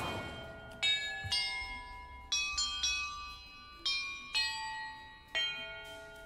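Bells rung one after another in Hogwarts Legacy, each a bright metallic strike with a long ringing decay, about seven strikes spaced irregularly, clear and alone.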